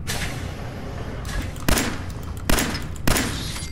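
Gunfire in Fallout 4: three sharp, loud shots crack out at uneven intervals, close and punchy, over a constant hiss of game ambience without talking.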